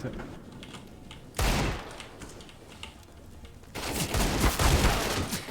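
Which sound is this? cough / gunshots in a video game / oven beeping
gunshots in a video game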